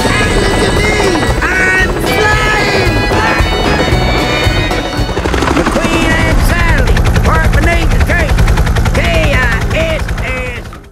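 A toy Dinoco helicopter from Disney Pixar Cars whirs continuously with rapid rhythmic chopping and electronic tones, loud and close, with brief voice-like chirps mixed in.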